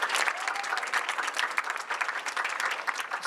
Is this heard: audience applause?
yes